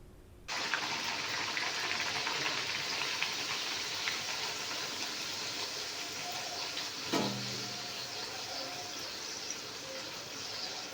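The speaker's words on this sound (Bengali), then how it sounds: "লুচি তেলের মধ্যে দিয়ে দেওয়া হলো।" Luchi frying in white oil in a small wok: a steady, fairly quiet bubbling hiss that starts abruptly and holds evenly, with a brief clatter near the end.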